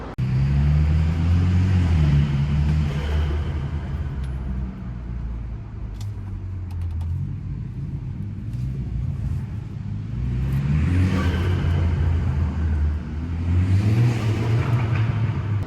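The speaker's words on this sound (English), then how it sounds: "Go Fast Bits divert valve on my car, and with the intake, it just makes a really cool sound" A BMW F30 3 Series turbocharged engine with a Go Fast Bits divert valve revs and rumbles through several acceleration cycles, with rising and falling intake roar and faint whooshing releases between pulls.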